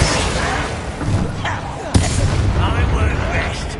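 Bombarda spell blasts in a Hogwarts video game: a dense, booming rumble with a sharp impact near the middle, layered over continuous game effects and a voice speaking.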